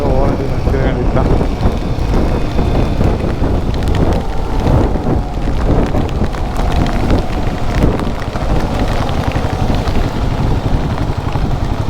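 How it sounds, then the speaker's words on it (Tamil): Heavy rain pours down suddenly along a ride toward Kanyakumari, a dense, loud, continuous hiss and patter with no break throughout. "திடீர்னு மழை பிடிச்சிருச்சு."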